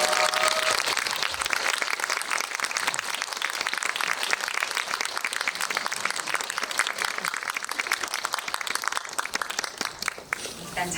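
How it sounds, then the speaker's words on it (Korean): Applause from a film screening audience welcoming the directors and actors for a post-screening talk, dense continuous clapping filling the room, fading slightly near the end. "큰 박수로 맞이해주세요."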